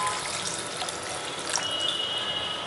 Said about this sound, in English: I'm going to add a little more water in here